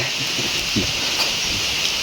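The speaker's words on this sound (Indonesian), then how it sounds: "suasana hujan di kampung ya" Rain falling in a village, a steady even hiss of drizzle on surfaces with no breaks, close and continuous.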